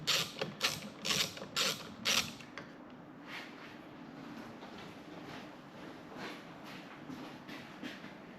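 A ratchet works on bolts behind the instrument cluster of a Triumph Rocket 3 GT, starting with a few loud close clicking bursts and continuing as quieter, rhythmic ratcheting ticks.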